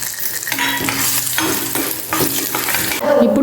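Cumin, mustard seeds and two dried chillies fry in hot oil in a pan for tomato coriander chutney, a loud continuous sizzle broken by rhythmic stirring scrapes.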